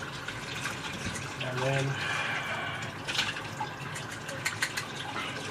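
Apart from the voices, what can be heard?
rinsing a coffee plunger under the sink tap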